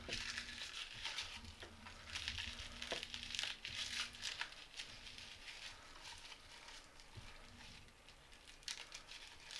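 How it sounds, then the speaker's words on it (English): A whole garlic bulb is broken apart by hand, its papery leaves left on. Faint crinkling, crackling and tearing run throughout, close and quiet. "I just like to take one bulb of garlic and just kind of break it up."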